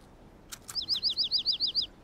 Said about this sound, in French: Caillou était surpris et content d'entendre le petit oiseau gazouiller.